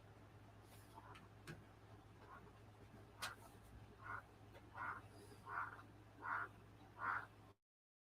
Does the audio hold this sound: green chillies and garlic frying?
no